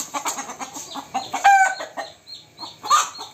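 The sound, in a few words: chickens clucking and crowing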